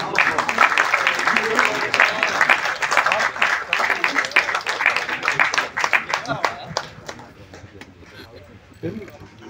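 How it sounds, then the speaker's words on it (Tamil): Audience at a film's 25th-day success meet clapping in a dense burst of applause that gradually thins into scattered claps, with a voice speaking over it. "மத்தவங்க கிளாப் தட்டலாம்."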